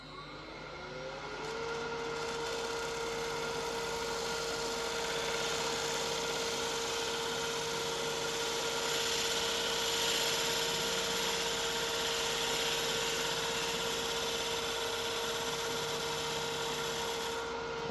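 A Balinese teak vase being shaped on a wood lathe with a ball gouge, working the foot: a steady, even whirring hum of the spinning lathe with a continuous cutting rub, constant and close throughout.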